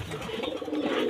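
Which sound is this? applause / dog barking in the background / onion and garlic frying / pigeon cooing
pigeon cooing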